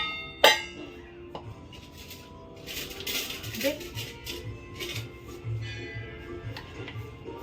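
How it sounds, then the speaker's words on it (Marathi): A spoon clinks sharply on a metal pot while homemade ghee is added to a one-kilo mutton dum biryani. Lighter scraping and tapping follow amid faint household background voices. "चमच्याने मला तूप टाकायचं"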